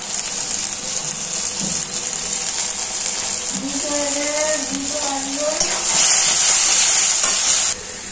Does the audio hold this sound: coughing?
no